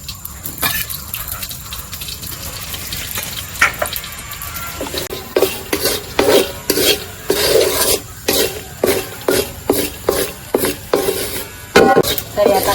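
Semolina roasting in ghee in a pan for rava ladoo, stirred with a spoon in a steady run of rhythmic scraping and rasping strokes, close and fairly clear, quickening toward the end.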